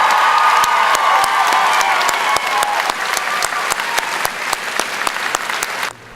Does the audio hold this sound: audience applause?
yes